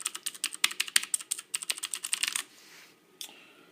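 Rapid clicky keystrokes rattle from a Cooler Master Quickfire XT mechanical keyboard with Cherry MX Green switches, a close, crisp run of typing that stops after a couple of seconds, then a faint rustle and a single final click.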